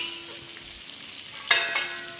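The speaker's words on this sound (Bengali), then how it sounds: "দিয়ে আমি আলুগুলোকে ভালোভাবে নাড়াচাড়া করে নেব" Potatoes seasoned with salt and turmeric fry and get stirred in a pan, a steady soft sizzle with a louder scraping stir burst partway through, close up and alone.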